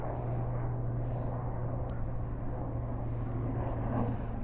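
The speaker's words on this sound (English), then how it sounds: "That's like a private helicopter." A private helicopter passes overhead outdoors near the Jefferson Memorial in Washington, a steady low rotor drone holding level throughout without talk.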